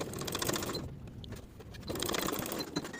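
A domestic sewing machine runs in steady bursts while stitching over existing lace stitching to catch a fabric tie on a sleep set, with a brief pause in the middle before the rapid mechanical whir resumes.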